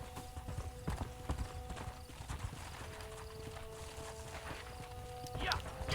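Horse hooves clip-clopping in the video game Red Dead Redemption, a steady rhythmic trot under game music and dialogue, with a faint whinny near the end.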